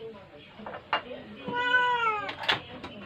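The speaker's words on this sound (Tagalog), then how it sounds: "Maingay pa tong pusa." A cat meows loudly and repeatedly close by, one long drawn-out call in the middle, while someone moves about preparing rice and food indoors.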